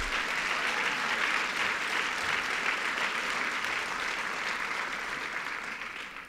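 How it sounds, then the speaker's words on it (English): Sustained audience applause at a Women's March breakfast, a steady wash of clapping that holds at moderate level before tapering off at the end. "And we applaud their courage."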